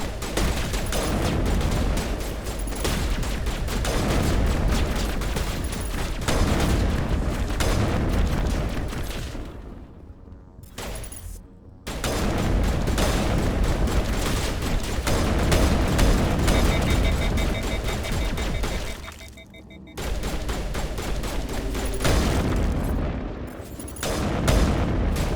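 Continuous combat in Mass Effect Legendary Edition: heavy, steady gunfire and booming blasts fill the space, dropping out briefly twice before resuming at full intensity.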